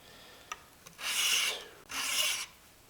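The back of a chisel is pulled across the coarse side of a sharpening stone in two close, gritty rasping strokes, each about half a second long, with a light tap before them.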